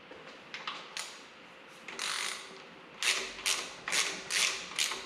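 A socket ratchet loosens bolts on a Farmall M tractor engine during disassembly, giving close, crisp clicking bursts in short uneven strokes, some quick and light, others longer and louder.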